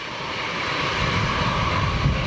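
Jet engines of Airbus A319 airliners, with a Boeing 757-200 following, a steady broad roar that swells slightly, loud and continuous with no voices.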